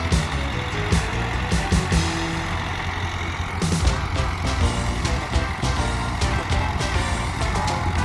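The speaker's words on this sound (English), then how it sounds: "It's a gas tractor." A 1941 Ford 9N gas tractor driving in a tractor tour parade, a steady low engine rumble with mechanical clatter and intermittent knocks, fairly close and continuous.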